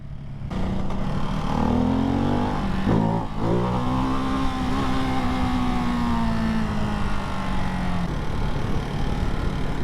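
A Ducati Hypermotard 698 Mono single-cylinder motorcycle ridden at speed in fourth gear, a loud close engine drone rising and falling in pitch with a brief dip near three seconds, wind noise underneath, no talking.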